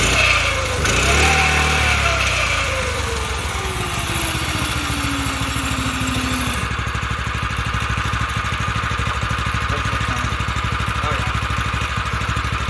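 A small engine fires on the first pull with no choke, then settles into a steady, loud idle with a fast, even putter that runs to the end.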